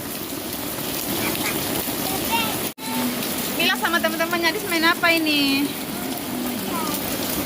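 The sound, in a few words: rain falling while a child plays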